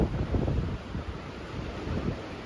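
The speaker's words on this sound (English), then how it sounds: "The surf is up, it's about 4 to 6 foot." Ocean surf at Bournemouth beach with waves of four to six feet and a slight onshore breeze, a continuous low wash of breaking water heard through gusting wind noise on the microphone.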